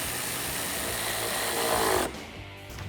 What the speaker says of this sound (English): Tighten those up with the 8mm socket.